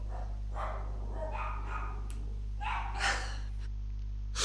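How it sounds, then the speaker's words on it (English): Dogs barking in a room during an interview recording, a few brief yaps and gasping, breathy sounds rising over a steady low electrical hum, fairly close. "Ignore my dogs."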